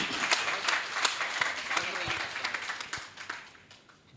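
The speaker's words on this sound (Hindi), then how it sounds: "सारे सदन की तालियां चाहती हूँ एक बार।" Audience applause at a Hindi poetry gathering in Agra, a steady wash of clapping across the hall that thins out toward the end.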